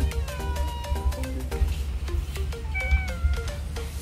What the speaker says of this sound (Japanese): 確かに子猫っぽい。